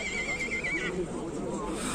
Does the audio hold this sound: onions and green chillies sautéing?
no